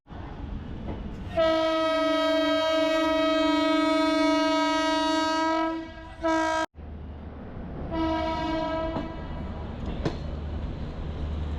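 A moving train rattles steadily beside the open door of a sleeper class coach while a long horn blares, cuts off, then sounds again more briefly over the continuous rumble of the wheels.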